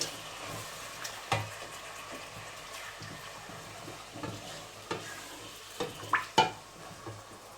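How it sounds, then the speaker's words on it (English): Rabbit meat sizzles in hot oil in a pot, punctuated by irregular scraping stirs and clanks of a spoon against the bottom, close and moderately loud with no voices. "Quickly stir that around so it doesn't stick to the bottom. Get all of the meat coated in the oil."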